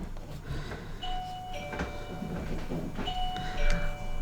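A doorbell chimes as the postman arrives, with a few clear tones over steady background noise and faint household rumble.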